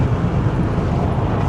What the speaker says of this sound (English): Look like a 350 or Infinity making all that damn noise.